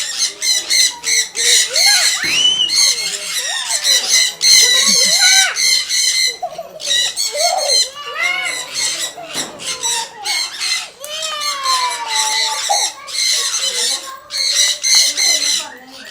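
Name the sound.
birds squawking at exotic bird park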